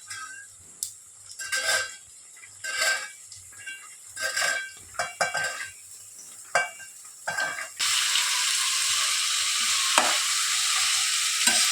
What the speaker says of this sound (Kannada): ತರಕಾರಿ ಹಾಕ್ತೀನಿ.